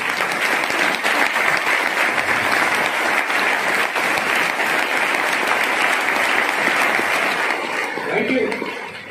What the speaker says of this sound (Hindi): एक बार ताली बजा दीजिए उनके लिए